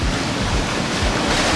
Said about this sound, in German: jetzt hier morgens immer noch in so einem aufgewühlten See